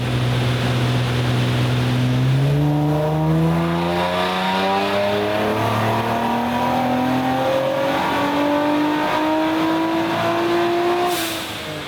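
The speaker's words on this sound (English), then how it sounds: "first things first, we need to get a baseline dyno run for the day" A Nissan Z with the VR30DETT twin-turbo V6 revs hard on a dyno during a baseline pull. The engine note climbs steadily and loudly for about ten seconds, then cuts off near the end.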